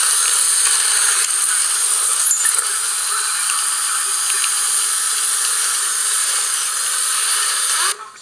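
A small block Ford engine block being sanded with a power tool, giving a steady, loud, hissing high-pitched whine that runs continuously and close up before cutting off at the end.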